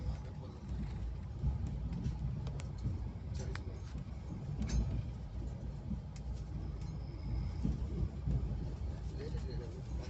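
Steady rumbling of a train running as it nears Akbarpur station, with constant low-frequency noise and occasional rattles throughout.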